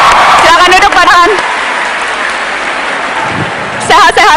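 Applause for Dahlan Iskan from an Indonesian event audience, a steady wash of clapping in the middle, framed by a loud announcer's voice talking at the start and again at the end.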